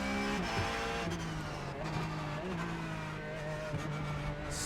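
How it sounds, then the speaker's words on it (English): A race car in a sim racing video game locks its brakes on cold tyres, tires skidding and squealing under a loud, continuous engine roar that shifts pitch as it slows, with no talking. "we're locking up and sliding in"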